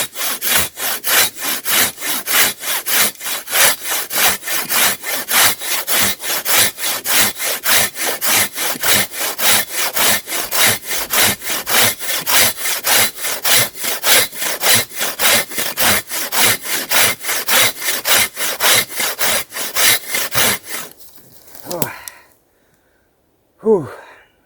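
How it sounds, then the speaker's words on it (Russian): Powerful hand saw cutting through wood in steady, rhythmic back-and-forth strokes, loud and close for about twenty seconds, then stopping; a heavy exhale of breath follows. "Хоть и мощная пила,"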